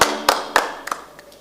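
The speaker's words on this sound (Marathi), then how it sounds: "चला तर एकदा इस्रो शास्त्रज्ञांसाठी जोरदार टाळ्या होऊ द्या" A handful of separate, sharp hand claps ring out close by in a hall during a state-level science one-act play competition, spaced unevenly and fading quickly rather than building into sustained applause.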